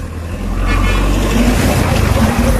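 A motorbike engine idles steadily right after starting, a continuous low rumble close by that holds at a constant level throughout.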